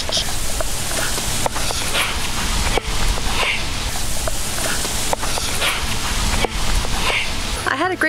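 Bulldog puppies play outdoors in wet weather, giving scattered yips, short barks and whimpers among rustling and footsteps, with brief knocks and a squeaky sound near the end.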